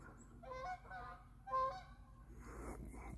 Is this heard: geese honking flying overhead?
yes